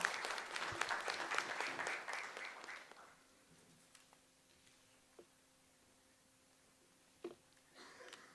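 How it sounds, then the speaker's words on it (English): Audience applause for a speaker at a feed technology expo in Pune, a loud burst of clapping that fades after about three seconds, followed by quiet room tone with a few isolated claps. "Big round of applause for Dr."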